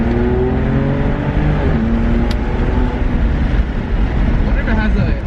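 BMW 335is with an engine tune pulling hard through second gear, a loud, steady engine roar rising in pitch, close up from inside the car, with a brief mechanical click midway.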